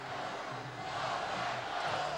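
A sellout football stadium crowd of about 28,800 in Regina at a CFL game, a steady distant roar of many voices with a slight swell partway through.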